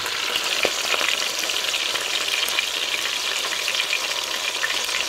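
Oxtail pieces fry in a pan with a steady, even sizzle and crackle, with a few faint pops and light stirring clicks over the top and no voices.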